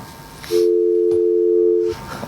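After a phone call drops, a steady electronic telephone tone sounds for about a second and a half, loud and continuous, with faint room noise before and after.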